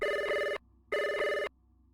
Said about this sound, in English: you hear the phone ringing